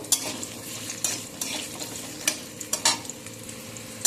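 Carrots fry and get stirred in a pan, with a steady close sizzle broken by several sharp scrapes and clinks of a utensil against the pan at irregular intervals, no voices.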